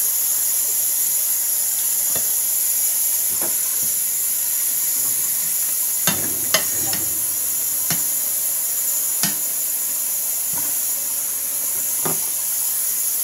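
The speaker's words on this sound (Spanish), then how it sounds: "Estoy lavando los platos." Dishes being washed at a home kitchen sink give a steady, bright rush of running tap water, broken by scattered sharp clinks of plates and utensils.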